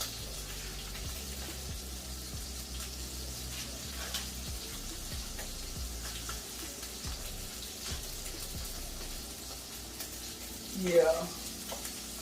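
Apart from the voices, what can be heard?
shrimp frying in pan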